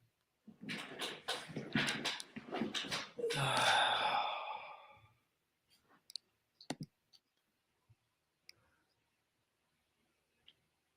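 Sharp isolated clicks of a computer mouse, several single clicks spaced irregularly and fairly close, following a burst of louder noise at the start.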